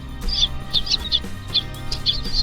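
Newly hatching chicks peeping in short high chirps, several quick calls in a loose irregular rhythm, close and clear over a low steady hum.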